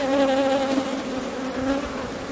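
Close, steady buzzing of honeybees crawling over a brood frame with capped bees about to emerge, taken for an artificial swarm; a clear wavering hum with no talking.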